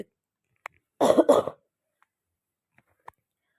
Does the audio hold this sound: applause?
no